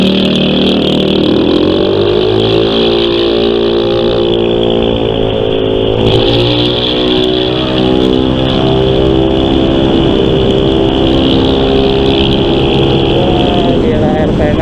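A Yamaha XMAX scooter's engine revs while riding, its loud, close drone climbing and dipping in pitch as the RPM rises quickly, with wind rush over the engine throughout.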